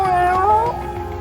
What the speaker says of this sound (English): Please make a cat noise